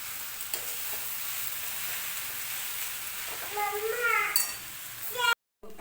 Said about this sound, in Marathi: आपण परत एकदा कांद्याची पात छान अशी मिक्स करून घेऊया